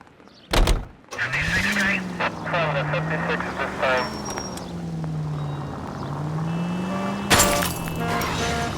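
Car engine in the video game L.A. Noire, a steady running drone with a rising and falling pitch, under a voice, opening with a sharp door-like clunk and ending with another.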